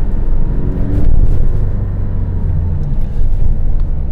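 Porsche 718 Boxster GTS with a 2.5-litre turbocharged flat-four driving on the road, a loud, close, deep engine rumble with a faint rising tone and steady road noise, no talking.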